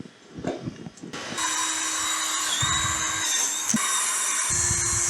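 A power drill bores into wood while building freeze dryer carts. A few light knocks come first, then the motor whines steadily, close and loud, for several seconds with small dips in load.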